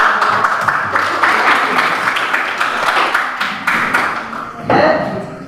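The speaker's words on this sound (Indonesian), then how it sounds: "tepuk tangan untuk" A classroom of students applauds a presenting group. The clapping is loud and dense, sustained for several seconds, then ends in a brief thump and fading chatter.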